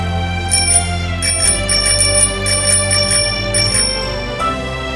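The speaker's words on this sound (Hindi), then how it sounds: "अभी भी घंटी बज रही है।" A bell on a child's old scooter rings repeatedly, bright metallic dings in a quick uneven series, loud and close over a steady low background tone.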